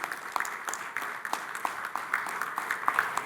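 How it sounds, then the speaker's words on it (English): Light, scattered clapping from a small audience at the inauguration ceremony of a national garment fair, with a few sharper claps standing out over a soft, steady background. "Can we have a great round of applause for Rohit Kansal Saab ji, please?"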